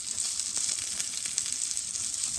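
Krill coated in beaten egg and flour frying in a wok, a steady close hiss and crackle of hot oil with scattered small pops, continuing unbroken without talk.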